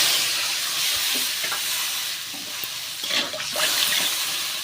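Water poured into a cooking pan for a Bengal-style pabda fish curry with chili powder, a soft hissing splash and sizzle building in the last second and a half after a steady background hiss.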